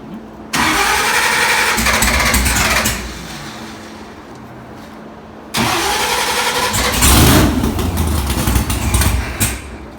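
A stalling Comet car engine is restarted twice, each time cranking into a loud, rough run that settles to an idle, with a brief lull between the starts.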